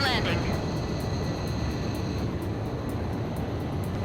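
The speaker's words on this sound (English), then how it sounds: "The transport plane is ready for an emergency landing." A transport plane coming in for an emergency landing in Ace Combat 5 makes a steady, loud engine roar with a high whine. The noise holds level throughout and is not covered by talk.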